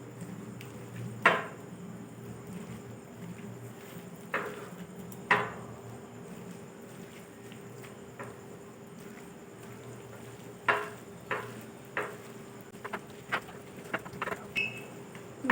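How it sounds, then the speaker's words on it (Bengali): A spoon stirs corn pakora batter mixed with salt and chaat masala in a bowl, producing soft scraping sounds broken by sharp clinks against the bowl, scattered at first and then quicker near the end, with no speech. "এবার সবগুলো একসঙ্গে ভালো করে মিশিয়ে নেব।"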